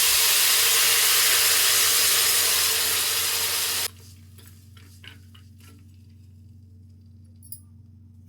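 Tamarind pulp and MTR pulihora mix cooking in a pan give a loud, steady sizzling hiss for about four seconds, then it cuts out, leaving faint kitchen clinks and a low background hum.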